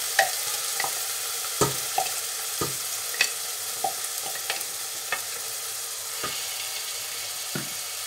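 Mutton kofta balls fry in hot oil with a steady faint sizzle, broken by repeated sharp clicks and scrapes of a spoon stirring the pan.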